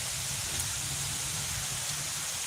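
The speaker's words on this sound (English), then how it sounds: "the rain, which is coming in hard" Heavy rain coming down hard, a steady dense hiss of drops on surfaces with a low rumble underneath, constant and fairly loud with no talking.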